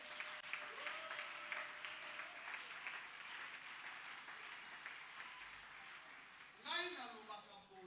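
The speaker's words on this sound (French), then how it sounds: "Pourriez-vous acclamer?" A church congregation applauds during a worship service, a steady mass of clapping running throughout, with a voice and a brief rising tone near the end.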